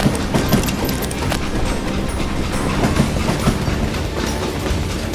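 Rumbling train rolling along with steady clickety-clack of wheels over rail joints, from a flat car loaded with logs in the Western shooter Call of Juarez: Gunslinger, loud and continuous throughout.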